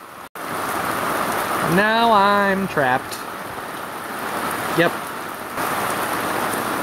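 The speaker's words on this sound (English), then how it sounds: "It doesn't appear that the rain's gonna let up anytime soon" Heavy rain pours down steadily outdoors, a loud dense hiss that continues throughout while a person speaks briefly over it.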